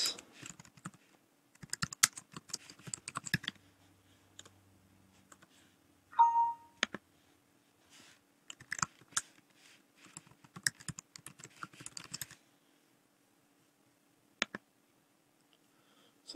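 Computer keyboard keys tap in quick irregular bursts mixed with sharp mouse clicks, close and faint against a quiet room, with pauses between runs of typing and a few isolated clicks.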